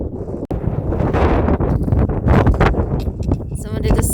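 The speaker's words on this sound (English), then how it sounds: "the wind is definitely picking up" Strong wind gusts across a Scottish Highlands mountain path on Schiehallion, a loud, steady roar buffeting the microphone throughout with brief dips, and a voice talking at points over it.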